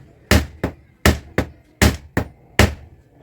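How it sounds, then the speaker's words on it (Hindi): A stuck screw on a fan regulator is struck with a hammer, seven sharp metallic blows landing in uneven pairs, close and loud against a quiet background. "अब देखिए मैं इसको ठोक रहा हूँ, अभी ये नहीं निकला"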